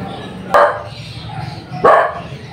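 A dog barks twice, short sharp barks about a second apart, fairly close, with quiet background noise between them.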